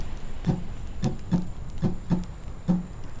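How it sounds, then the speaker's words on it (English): Muted acoustic guitar strings strummed in a signature pattern, giving six dull percussive chops at a steady, moderate rhythm, fairly close and soft, with no voice over it. "this first song, the strum pattern sounds like this when I mute the strings"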